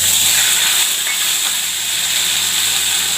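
Cumin seeds and ginger hit hot oil in a wok, giving a loud, close, continuous hissing sizzle that holds steady for a few seconds with no speech.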